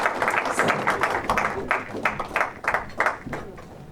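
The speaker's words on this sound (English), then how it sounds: "can we please give him a big round of applause to make him feel very welcome" Audience applause welcoming the High Commissioner of India at a trade event, a dense, steady patter of many hands clapping with sharper bursts of claps throughout, fairly close and continuous.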